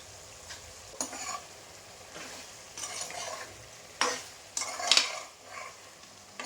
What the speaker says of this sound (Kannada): ಚೆನ್ನಾಗಿ ಮಿಕ್ಸ್ ಮಾಡ್ಕೊಳ್ಳಿ.